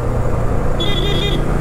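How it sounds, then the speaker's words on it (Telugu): A vehicle horn sounds on a forest road in Kerala hill country, a single steady toot lasting about half a second over a constant low motorcycle engine drone. "ఇట్లా కొట్టాలి హారన్"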